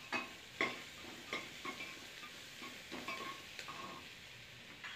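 Onions sautéing in a pan with salt for a Tamil field beans gravy, a faint low sizzle broken by a few light stirring scrapes and spoon taps at close range.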